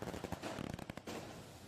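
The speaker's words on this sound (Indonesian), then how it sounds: "ini rasa syukur kita menyalakan kembang api malam ini ya" Fireworks set off at night by a celebrating crowd in Pati, Indonesia, crackle in a rapid burst of sharp bangs and pops that thins out and gives way to a steady background hiss.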